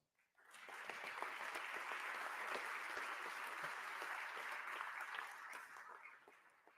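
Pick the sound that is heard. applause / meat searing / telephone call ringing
applause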